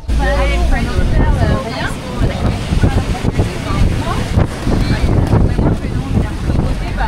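Strong wind blows outdoors, buffeting the microphone in a loud, continuous rumble that rises and falls, while people talk over it.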